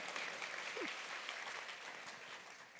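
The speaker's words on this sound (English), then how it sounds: "I heard a couple of applause." A luncheon audience applauds in a broad, steady patter of many hands, moderately distant and sustained throughout, with a brief faint voice partway in.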